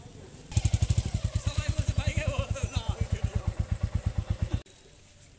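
A motorcycle engine running close by, a steady rapid thumping idle that stops abruptly near the end, with people talking in the background.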